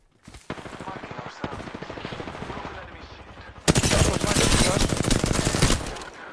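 Rapid automatic gunfire rattles in the video game Apex Legends, with dense repeating bursts that swell into a louder, harsher volley near the end.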